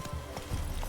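Horse hooves gallop in The Witcher video game, a quick, brief patter of muffled hoofbeats over a steady background rumble.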